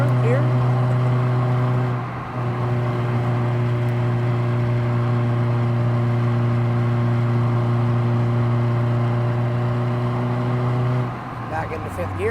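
A 2007 Honda Fit GD3 hatchback drives along with a steady, close engine drone and tire noise, holding even revs throughout with a brief dip near the start and a shift near the end.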